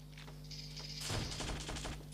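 Gunfire in PUBG Mobile on the Livik map, with a burst of rapid shots starting about halfway through over a low steady game hum, fairly quiet and with no voices.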